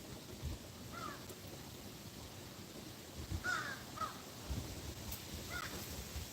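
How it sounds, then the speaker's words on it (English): A seagull gives several short, scratchy calls at moderate distance over steady outdoor background noise, with a few soft knocks and thumps mixed in. "So I've spent the last few minutes just trying to keep my seagull away."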